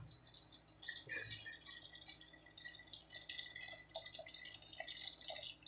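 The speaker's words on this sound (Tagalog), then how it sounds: "Maglalagay po tayo ng tubig." Hot water poured into a pot of tilapia, a faint close splashing and trickling with light rattling and dripping, steady throughout.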